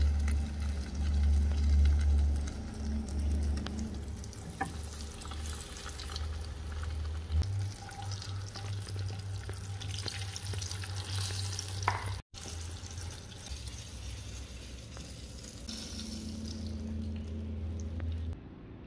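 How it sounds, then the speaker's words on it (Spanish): Squash blossoms stuffed, dipped in egg and dredged in flour sizzle steadily in hot oil, a dense close crackle with low rumbling bubbling that carries on throughout. "La llevamos al aceite caliente."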